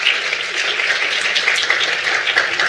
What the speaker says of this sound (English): So go ahead and give yourselves a round of applause.